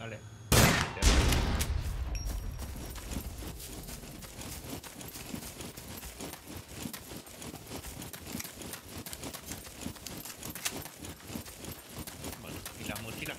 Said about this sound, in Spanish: Disparo yo, al dron.